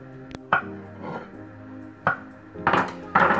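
A knife slicing bananas over a frying pan makes a few scattered knocks and metallic clinks, separated by quiet gaps, with a quick cluster of taps at the end.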